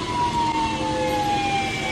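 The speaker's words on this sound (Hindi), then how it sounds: "एक और फायर ब्रिगेड आ गई" A fire engine siren wails as the truck arrives at a burning furniture market, a loud, sustained tone gliding slowly downward over the rumble of the vehicle.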